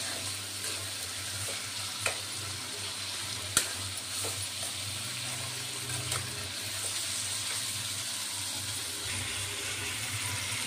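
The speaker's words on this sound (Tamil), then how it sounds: "இப்போ வந்து வெங்காயம் பாருங்கள், தக்காளி, பச்சை மிளகாய் எல்லாம் வதங்கிட்டுருக்கு." Onion, tomato and green chili sauté in a pan for a traditional country chicken curry, giving a steady sizzle broken by a few sharp stirring clicks and scrapes.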